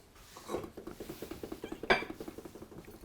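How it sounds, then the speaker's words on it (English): A kitchen knife cuts through a green pepper on a chopping board, giving a run of quick, crisp knocks and clicks at close range with a brief louder crunch partway through. "Just slicing your pepper in half."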